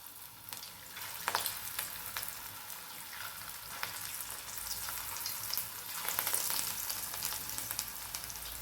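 Matki dal bhaji fritters frying in hot oil, a steady close crackling sizzle with sharper pops throughout and no talk over it.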